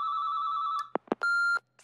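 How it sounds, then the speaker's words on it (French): A telephone rings in two long electronic trills separated by a few short knocking thumps, clear and close in a quiet room. "Mélanie, je peux pas atteindre le téléphone."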